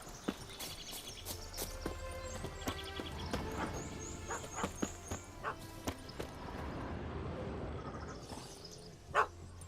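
Dog barking in The Witcher 3 video game, several sharp barks over a busy outdoor scene with hoofbeats, ambient music and faint voices, ending in one louder yelp near the end.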